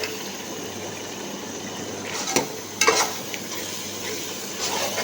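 Garlic and ginger paste sizzles and fries steadily in a pan for a chicken biryani, with a few louder scraping stirs of a spoon breaking through the continuous crackle, close and alone without talk.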